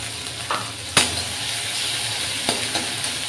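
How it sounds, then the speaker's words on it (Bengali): Onion paste, garlic and ginger frying with cumin in a pan, a continuous close sizzle broken by a few sharp scrapes and clinks of a spatula stirring. "এটাকে ভালো করে একটু কষে নিতে হবে।"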